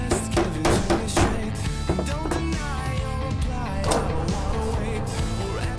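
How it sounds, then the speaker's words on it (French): A punch is struck with a hammer to mark fixing points on a metal clamp for a café racer, sharp metallic taps recurring irregularly over a steady hum of workshop noise and music. "Koen marque la position des points de fixation avec un poinçon"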